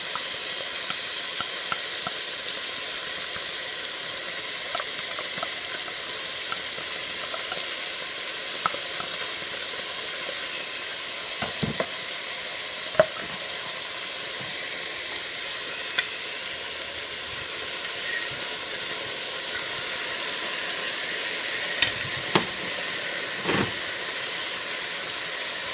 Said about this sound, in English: Add the garlic.